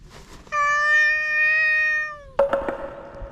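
A street cat lets out one long, loud, sustained meow close by, followed by shorter rough calls and scuffling noises from other stray cats gathering nearby.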